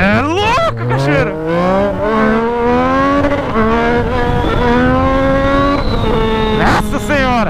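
A Yamaha MT-09 motorcycle with an aftermarket straight-pipe exhaust accelerates hard, its loud engine note climbing in pitch through repeated revs, close and dominant.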